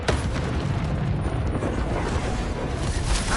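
Confringo blasting spell in the video game Hogwarts Legacy, a loud, sustained roaring explosion with deep rumble and crackling debris that fills the whole moment without pause.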